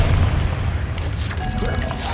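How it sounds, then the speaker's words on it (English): Casting Expelliarmus in Hogwarts Legacy produces a heavy, booming impact with a crashing burst, followed by a brief shimmering magical ring as the rumble settles, loud and close. "Expelliarmus."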